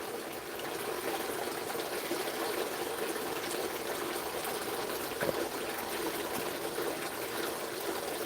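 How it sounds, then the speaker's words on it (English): Water trickles steadily in a garden pond, a constant soft hiss and splash that stays even and unbroken throughout with no voices. "Just listen to the water and stuff instead."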